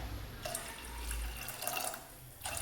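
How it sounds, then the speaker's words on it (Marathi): Half a glass of water is poured into flour in a pot to make bhakri dough, giving quiet trickling splashes in short bursts with brief pauses between. "आता त्याच्यात मी अर्धा ग्लास पाणी अजून टाकता."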